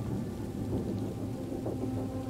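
Rain and rolling thunder in the video game Detroit: Become Human, a quiet continuous patter under a low rumble, with no voices.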